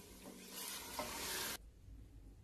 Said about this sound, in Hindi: दही डाल के इसको मैंने मिक्स कर लिया।